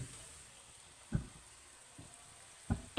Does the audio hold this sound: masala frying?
yes